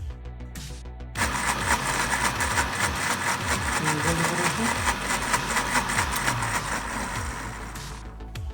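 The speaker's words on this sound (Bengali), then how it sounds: "এখন আমরা লাল কাঁচামরিচটা আর রসুনটা আধা ভাঙা করে নিব ব্লেন্ডারে" An electric blender starts after a brief pause and runs loudly and steadily for several seconds, coarsely grinding red chillies and garlic with a little water into a thick paste, then winds down slightly near the end.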